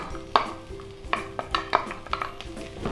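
A spoon stirs and scrapes in a pan, mixing mashed boiled potato into sautéed onions for aloo bonda, with soft knocks and a light sizzle at irregular intervals. The sound is close and moderately quiet, with no talking.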